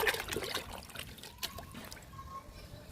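Cooling liquid pours onto flowering garden plants in a soft trickle and splash, faint and close, with small dribbles fading toward the end.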